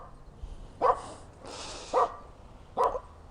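An excited dog barking outdoors, three sharp separate barks spaced about a second apart, fairly close and loud over a quiet background.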